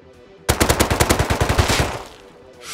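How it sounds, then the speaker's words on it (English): Rapid burst of AK rifle fire in the survival game Rust, about a dozen evenly spaced loud shots over roughly a second and a half, then fading to quiet with no speech. "I heard some AK."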